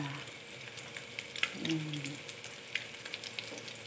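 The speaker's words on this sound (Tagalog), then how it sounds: "Ayan, ipapry na natin siya, guys." A beef burger patty fries in a pan, a quiet, steady sizzle with a few brief pops and scrapes along the way, heard on its own with no one talking.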